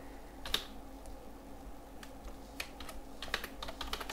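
Scattered keystrokes on a computer keyboard as a file name is typed, light irregular clicks in quick clusters over a faint steady background hum, with no talking.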